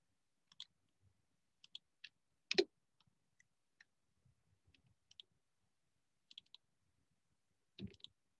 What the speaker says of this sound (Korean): 컨트롤로 클릭했어요